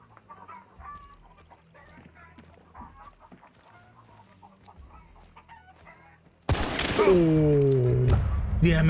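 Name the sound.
chickens clucking in the video game Hunt: Showdown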